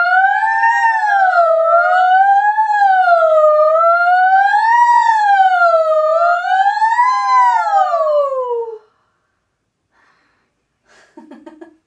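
A voice glides smoothly up and down in wavy pitch sweeps, imitating a siren, for several seconds before stopping, followed by a short breath.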